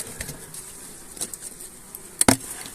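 Bees buzz inside a beehive while its bottom is being replaced, a faint steady hum heard close, broken by a few sharp wooden knocks and taps near the end.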